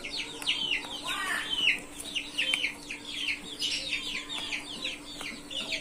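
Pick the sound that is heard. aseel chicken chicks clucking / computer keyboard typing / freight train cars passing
aseel chicken chicks clucking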